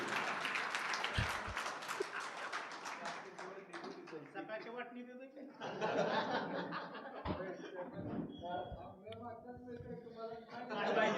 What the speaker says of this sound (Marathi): दादांसाठी एकदा जोरदार टाळ्या झाल्या पाहिजेत.